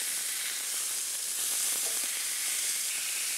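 Pork filet mignon searing in a hot pan gives off a steady, loud, dense sizzle that holds at an even level from start to finish, with no voices over it.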